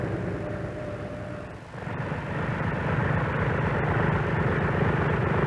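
A Grumman F6F Hellcat's radial piston engine rumbles while taxiing, loud and steady with a throbbing low drone that dips briefly, then swells a little louder and holds, with no voices.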